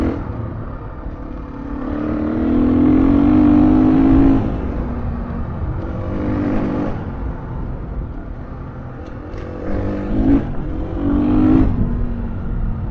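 A 2021 Gas Gas EC 350F dirt bike engine drones while being ridden, rising and falling as the throttle opens in repeated revving surges. It sounds close and loud throughout, with no talking.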